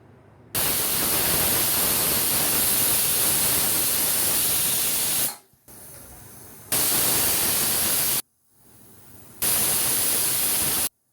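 Loud hissing bursts of steam release in three long blasts separated by short quiet gaps, a pressure cooker whistling three times while cooking vegetable pulao.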